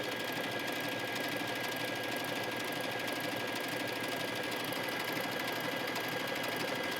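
A sewing machine stitches a decorative seam in contrasting thread on leggings fabric, running continuously as a steady, fast mechanical whir and rapid needle clatter from start to finish, close and even.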